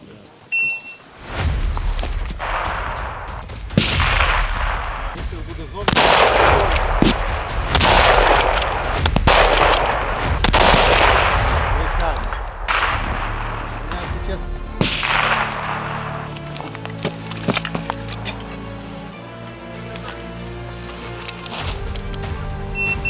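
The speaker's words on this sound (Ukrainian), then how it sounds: "З кожного положення по 4 постріли." Gunfire at a shooting exercise, with loud, close shots fired singly and in pairs at irregular intervals over roughly fifteen seconds, then quieter clatter and a faint beep as activity winds down.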